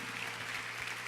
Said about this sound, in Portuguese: você pode aplaudir o Senhor por elas